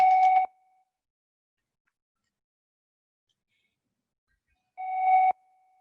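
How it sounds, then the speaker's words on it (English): A telephone rings in two short bursts separated by about four seconds of silence, each a clear, electronic trill heard alone. "The phone is ringing."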